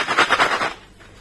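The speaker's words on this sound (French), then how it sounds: "il y a un bruit de chaîne dedans" A parcel shaken by hand, its loose screws inside rattling like a chain in a quick burst of four or five clattering jolts that stop after under a second.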